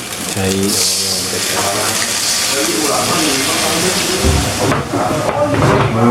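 Leaves frying in hot oil during a home cooking session, giving a steady loud sizzle and hiss throughout, with people talking over it.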